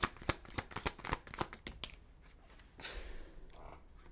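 Tarot cards shuffled for a reading, a quick run of close, sharp riffles and taps for about two seconds, then a softer sliding rustle.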